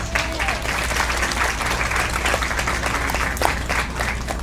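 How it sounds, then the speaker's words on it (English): Dense, loud audience applause for a woman giving a glass blowing demonstration, a continuous wash of many hands clapping at once that holds steady throughout, heard over a low hum of the venue. "Let's give her a round of applause."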